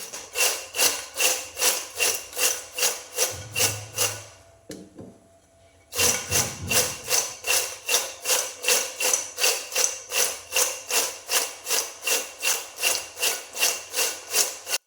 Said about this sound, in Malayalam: ഇനി ഇതെല്ലാം കൂടി ഇതുപോലെ നന്നായിട്ടൊന്ന് കുടഞ്ഞിട്ട് മിക്സ് ചെയ്തെടുക്കാം